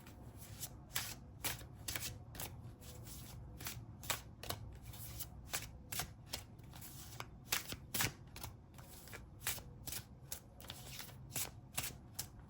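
Tarot cards being shuffled by hand, a quick run of crisp riffling flutters and soft taps repeated in bursts, close and fairly quiet, with no voices.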